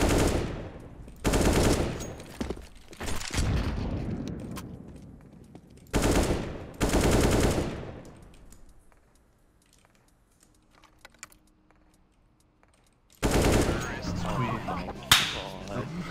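Loud bursts of rapid gunfire from a video game in sharp volleys separated by quieter gaps, with a single crack near the end.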